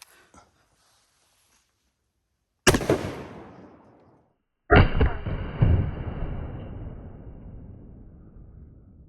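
A Desperado 12 gauge double-barreled black powder shotgun fires twice outdoors at a range, each blast loud and booming with a long decaying rumble, the shots about two seconds apart after a quiet start.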